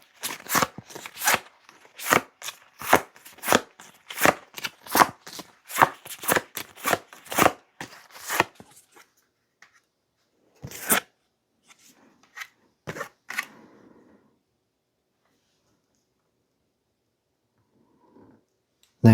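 Tarot cards shuffled by hand in quick crisp riffles and flicks, a rapid rhythmic run that slows into a few separate snaps as cards are drawn, then near silence.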